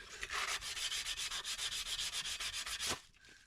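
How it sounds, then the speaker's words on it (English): Wire wheel and sandpaper scrubbing rust and grime off Mercedes W124 brake parts, a steady close abrasive rasp with rapid pulsing strokes for about three seconds before cutting off to near silence. "I'll get the wire wheel, maybe get a little bit of this off with sandpaper"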